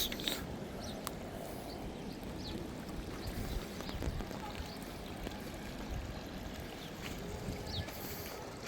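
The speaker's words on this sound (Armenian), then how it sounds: "Սենց զուլալ ջուրը գնում կորում է" Clear drinking water flows away steadily in Vedi, a continuous rushing and trickling stream at moderate level with no break across the whole stretch.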